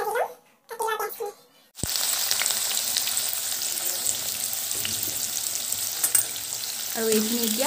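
Chicken being stirred with salt, cumin, coriander and red chili powder in a frying pan, a steady broadband sizzle with scraping stirs, opening with a short burst of talk before the frying noise takes over.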